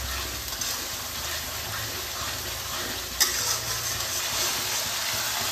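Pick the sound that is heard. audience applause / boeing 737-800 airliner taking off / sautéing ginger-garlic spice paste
sautéing ginger-garlic spice paste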